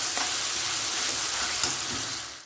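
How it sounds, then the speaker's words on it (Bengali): Ginger-garlic spice paste fries in a pan for a Bengali chicken kosha, giving a loud, steady, close sizzle that holds unbroken throughout with only a faint clink near the middle. "এইবার মশলাটা ভালো করে কষিয়ে নিয়ে চিকেনটা এর মধ্যে দিয়ে দেব।"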